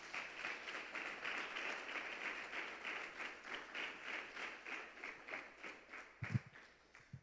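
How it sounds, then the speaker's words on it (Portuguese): A church congregation claps loudly and steadily for several seconds, a dense rhythmic wash of many hands that gradually thins, with a few thumps near the end. "Você pode aplaudir bem forte o Senhor?"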